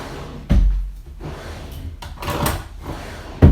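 A drawer being pulled open and pushed shut at a craft table, giving a couple of solid wooden thunks and sliding scrapes, close and fairly loud, with no talking.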